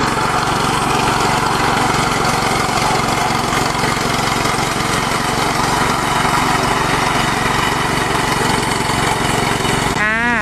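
A ride-on lawn mower with gears cuts grass in a Thai yard, its engine droning loud and constant close by with no break.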